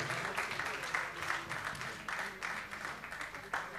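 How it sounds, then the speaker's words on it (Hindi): An audience at a university felicitation ceremony applauds an honoree, a modest wash of clapping with voices mixed in. "एक बार जोरदार तालियां हो जाए मनोज शाश्वत जी के लिए"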